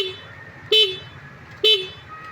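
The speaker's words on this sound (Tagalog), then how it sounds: "lakas yung busina." Two short, loud honks from a flood-damaged motorcycle's horn sound about a second apart, close by, over a quiet idle.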